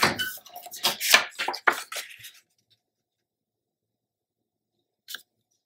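Scissors trim patterned paper for a handmade mini album, a quick run of crisp snipping and rustling cuts up close, then silence with one last faint snip.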